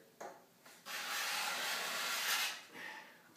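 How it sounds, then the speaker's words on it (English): A Wagner 100X hand scraper drawn across a wooden bookcase door, stripping it to bare wood: a couple of short rasps, then one long, steady, close scraping stroke with a softer pass at the end. "I'm scraping right down to the wood."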